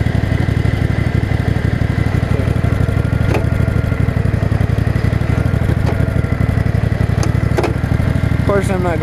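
An engine idling and running steadily after its first cold start of the year, a loud, even, rapid clatter close by, with brief knocks and a voice near the end.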